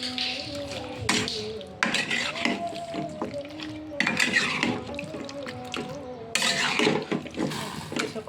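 A spoon stirs chicken curry in a cooking pot, scraping and clinking against the metal in short uneven bursts, with a voice talking in the background.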